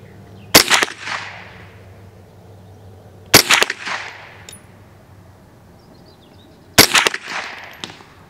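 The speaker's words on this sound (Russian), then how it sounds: "Так, делаем 3 выстрела." Three sharp .22 WMR rifle shots are fired at a range in a grouping test, each a loud, crisp crack with a short ringing tail, spaced about three seconds apart with quiet outdoor background between.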